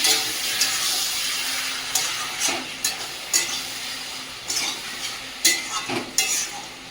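Meat sizzling steadily in a pan while a spatula stirs and scrapes it in repeated bursts that grow more frequent toward the end.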